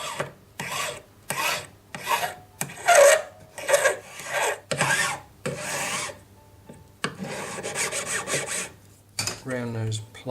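Hand file trimming the metal claws of a round jewelry basket setting, a series of close, rhythmic rasping strokes with short gaps between them, alone without talk.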